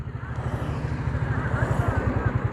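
A tractor engine chugs steadily at the roadside where a road shoulder is being built, with a fast, even low-pitched beat and clatter, loud and close, alone without talk.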